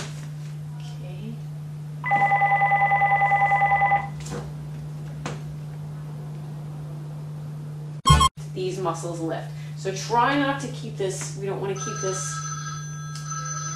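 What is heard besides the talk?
phone ringing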